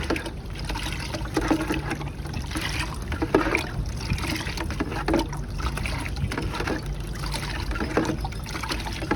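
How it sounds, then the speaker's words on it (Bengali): Fertilizer being mixed and stirred into water for a periwinkle plant, a continuous close sloshing and trickling of water with small splashes and swirls throughout. "আমি এটা জলের সঙ্গে গুলিয়ে নিচ্ছি বন্ধুরা"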